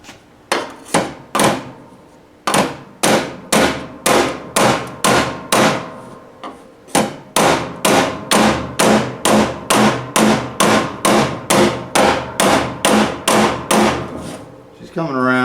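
Rapid, steady hammer blows on a dolly ring out as an old barn-find car's aluminum body panel is straightened: roughly thirty loud, close, sharp metallic strikes in an even rhythm, with only a brief pause early on.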